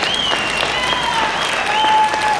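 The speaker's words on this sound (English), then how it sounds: "yes, you can applaud" An audience claps steadily through a brief burst of applause at a policy talk, close and sustained, with a few voices faintly mixed in.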